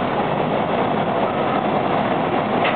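A Yonge line subway train running through the tunnel, a dense steady rumble and rushing roar heard from inside the cab, continuous and loud without voices.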